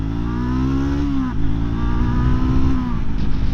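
A 2024 Triumph Scrambler 400X rides at low speed in second gear, its engine a loud, close, steady low drone that dips briefly, then holds an even throb as the bike rolls along.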